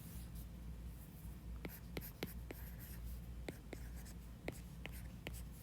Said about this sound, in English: All right, so let's write that in.